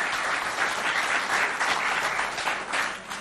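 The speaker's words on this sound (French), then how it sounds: "On applaudit tous les journalistes de l'ONAMA" An audience claps for radio journalists at a school event in a Chad province, a sustained, fairly loud round of applause that swells and fades slightly toward the end, with no speech over it.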